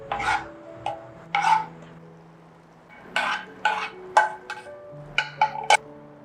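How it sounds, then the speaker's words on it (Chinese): Chinese toon oil paste is stir-fried over low heat, and a spatula scrapes and stirs in the pan in short, irregular bursts with quiet gaps between them. "我们先用小火把它炒香。"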